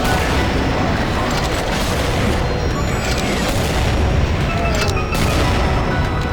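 Gunfire from the video game Trailblazer, including a Nutcracker rifle, booms in dense, continuous bursts of shots and explosions, loud and heavy throughout, with a narrator's voice talking over the battle.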